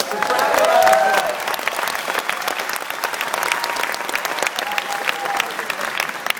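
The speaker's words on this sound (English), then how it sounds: "So give yourselves a round of applause." An event crowd breaks into loud applause that swells early and then settles into steady clapping, with brief whoops rising above it and some faint voices mixed in.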